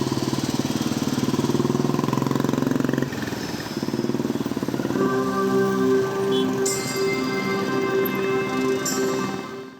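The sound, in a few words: motorcycles of a bike rally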